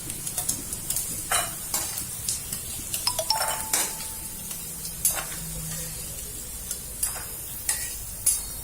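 Peanuts frying in hot oil in a pan for kande pohe, with a steady sizzle and irregular scraping and clinking strokes of a spoon stirring against the metal.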